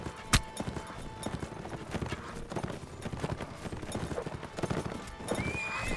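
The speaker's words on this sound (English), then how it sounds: "Alright, there's a horse." Horse hooves in Mount & Blade Warband video game, rapid rhythmic clip-clop of a galloping horse up close, with a sharp strike early and battle noise around, plus a whinny.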